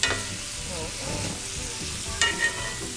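Cajun butter garlic steak bites searing in a hot pan, a constant close sizzle with occasional scraping and clinks as the pieces are turned.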